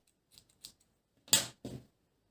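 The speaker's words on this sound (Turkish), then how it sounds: "Şimdi ipimi kesiyorum." Scissors cutting yarn during crochet work on a flower, with a few quiet crisp snips, two faint ones followed by two louder close cuts, in an otherwise silent room.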